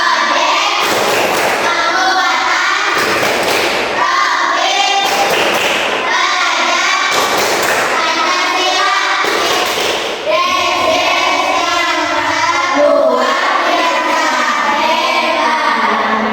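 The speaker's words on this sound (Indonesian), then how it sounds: "kita akan tepuk pelima dulu. Tepuk pelima." A group of children performs the tepuk pelima clapping chant, rhythmic thumping claps in bursts mixed with loud chanting voices, close and continuous throughout.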